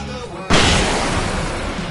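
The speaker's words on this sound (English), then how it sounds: "I can set off more of the fireworks from here and help you out!" Fireworks going off during a fight in the Alan Wake video game: after a brief quieter stretch with faint voices, a sudden loud blast erupts and rumbles on, slowly fading over the following second and a half.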